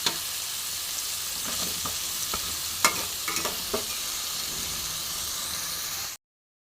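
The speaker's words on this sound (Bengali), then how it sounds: "দেখো আলু, পেঁপে, গাজরটা আমি একটু ভেজে নেব।" Potato, papaya and carrot pieces fry in oil in a steady, moderate hiss, with scattered utensil clicks and stirring taps midway before the sound cuts off abruptly.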